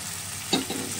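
Boiled toor dal tipped into fried masala in a pan, a quick loud splash and hiss rising out of a quiet background sizzle, brief and close, no talk.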